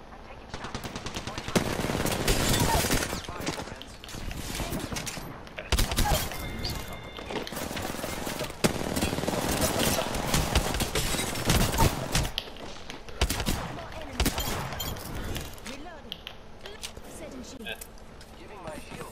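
Rapid automatic gunfire and repeated shots from the Apex Legends battle royale shooter, loud and dense through most of the stretch, with bursts, thuds and game effects while a player talks over it.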